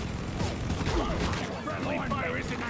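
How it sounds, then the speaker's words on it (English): Automated turrets firing at enemies in a video game, a busy, continuous crackle of rapid shots with warbling alien cries mixed into the din, loud and unbroken throughout. "I'm backing up to my turrets so they can take out the jellies"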